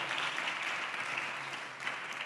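A church congregation clapping during a sermon, dense steady applause of many hands, held at an even level throughout, fairly distant and soft with no talk over it.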